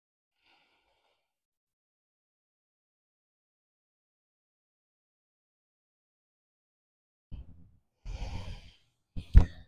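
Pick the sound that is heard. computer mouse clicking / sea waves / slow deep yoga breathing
slow deep yoga breathing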